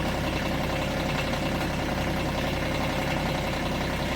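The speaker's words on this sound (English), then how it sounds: "Yeah, do love the tractor." A tractor engine idles steadily and close by, a continuous low mechanical rumble with an even, unchanging drone throughout and no talk over it.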